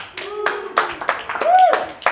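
A small crowd at an open mic night claps in a brief, scattered burst, with a few cheers and whoops rising over the applause.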